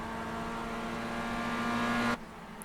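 A Skip Barber race car in iRacing at Circuit Villeneuve drones steadily at high pitch, then cuts off abruptly as it passes, leaving a quieter hum behind.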